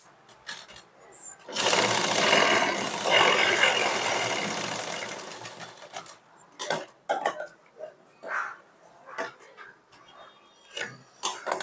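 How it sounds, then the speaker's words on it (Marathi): A sewing machine runs a continuous stretch of topstitching on a sleeve joint, a close, steady whirring buzz for several seconds, followed by scattered clicks and handling noises as the fabric is adjusted. "याच्यावर दाब शिलाई मारून घ्यायची"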